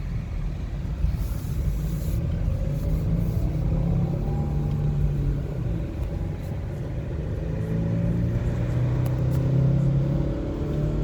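A car's engine rumbles steadily from inside the cabin on a rural country road near Lockhart, Texas, its pitch rising and settling as the driver shifts gears.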